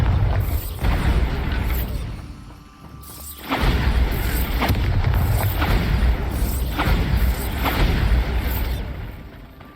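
Loud booming blast from a Bombarda spell in a wizarding video game, a sustained rumbling burst with mechanical creaks, a brief drop near three seconds, then continuing heavy crashing and clattering.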